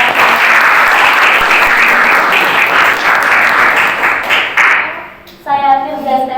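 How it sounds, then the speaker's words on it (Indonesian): An audience closing a podcast breaks into loud, sustained applause that fades out after about five seconds, followed by a short musical tone. "Kita tetap beri tepuk tangan dulu ya."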